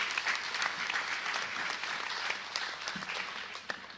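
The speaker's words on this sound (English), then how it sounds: "give them a round of applause right now" Many people applaud at a keynote session of an education technology showcase, a soft, distant, continuous patter of clapping that holds steady throughout, with a few sharper claps standing out.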